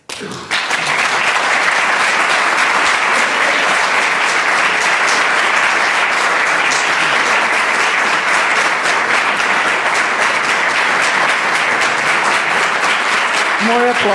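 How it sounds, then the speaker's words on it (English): Loud, sustained applause from a large audience at the Vigdís Prize for Women's Empowerment launch in Reykjavik honors Iceland's Prime Minister, steady dense clapping running nearly the whole stretch before fading at the end. "More applause to the Prime Minister."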